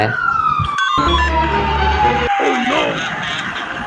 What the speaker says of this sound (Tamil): டேய் போலீஸ் வண்டி சவுண்டு கேக்குதுடா